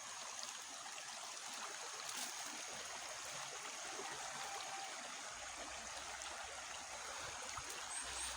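Steady broadband rush of river water flowing, a continuous stream-like wash holding even and fairly close throughout with no voices.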